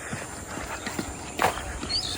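Young cattle running and jumping about on a farm, heard as faint, irregular hoof thuds and clops scattered over a quiet outdoor background, with one slightly louder knock midway.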